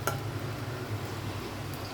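Dried chili, onion and garlic tempering in hot oil for a bagar, giving a steady close sizzle and crackle throughout, with a faint low hum underneath and no talking.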